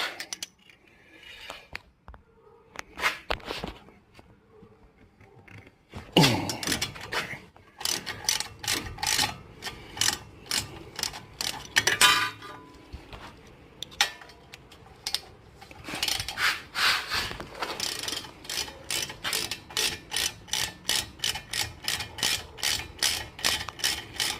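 Rapid ratchet clicking from a hand wrench working T45 Torx bolts on the front brakes of a 2013 Ford Fusion, in quick bursts that settle into a steady close, loud clicking run with no talk.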